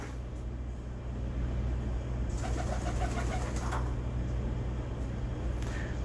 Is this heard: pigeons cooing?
yes